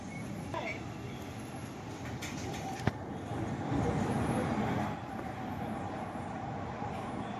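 Mumbai Metro Aqua Line underground train running, a steady loud rumble and rattle of wheels through the tunnel with a brief sharp click midway and a swell around the middle; faint talk over it.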